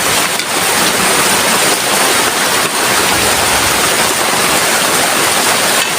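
Steady downpour of heavy rain, a loud, unbroken hiss with no pauses, filling the space alone without voices.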